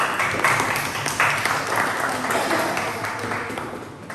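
Classmates clap in a classroom during a biotechnology lesson, a moderately loud, uneven burst of hands mixed with chatter and voices throughout.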